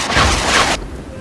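A tank cannon firing in the video game Armored Warfare, a loud, broad blast with a rumbling tail that cuts off after under a second, leaving quieter background.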